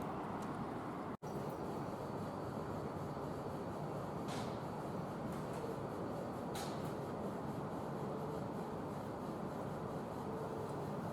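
A Tokyo Metro Ginza Line subway train rolling through a level crossing at the Ueno depot, a steady low rumble of wheels on track with a couple of faint clanks, heard at moderate distance.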